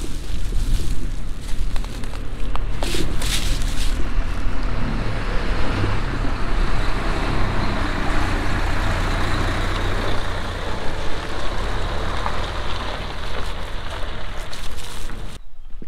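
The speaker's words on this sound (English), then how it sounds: "Behind me is one of the lorries taking all the rocks away. Coming up this narrow road." A lorry loaded with hauled rocks grinds up a narrow village road, its heavy engine a loud, steady rumble that stays close throughout with rattling and road noise.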